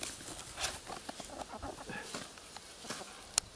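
Hens clucking softly around a person standing among them, a scattered run of short, faint calls with rustling and a sharp click near the end, fairly distant and low in level.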